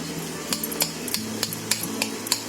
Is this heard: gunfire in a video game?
no